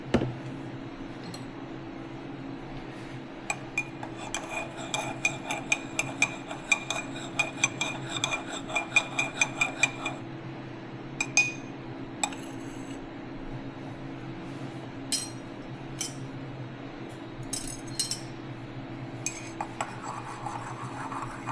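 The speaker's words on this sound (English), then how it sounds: "Stir it up." Milk being stirred into a homemade L. reuteri yogurt mix with pickle mix-ins, a spoon clinking and scraping against the container in a quick, uneven series of close, light taps over a steady background hum.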